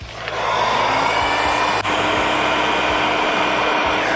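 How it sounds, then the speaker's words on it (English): A heat gun blows a steady, loud whoosh with a faint whine while shrinking heat shrink tubing on car wiring in a Mustang GT donor re-wiring job, running continuously for about four seconds with one brief dip near the middle. "I'm just going to heat shrink that"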